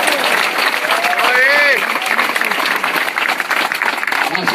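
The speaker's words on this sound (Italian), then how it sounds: "Un grande applauso a Salvini" A crowd at an outdoor political rally in Godega di Sant'Urbano claps and cheers loudly and steadily for Matteo Salvini, with a voice calling out briefly over the ovation.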